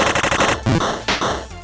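Rapid machine-gun fire in the video game Super Wagon Adventure, a loud close burst of quick shots followed by a few heavier separate blasts.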